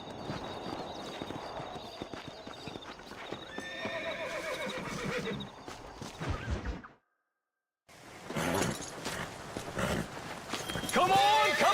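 A horse in Red Dead Redemption neighs and whinnies loudly alongside clip-clopping hooves and swishing movement, with a short silent gap before more whinnies and hoofbeats, and voices speak throughout.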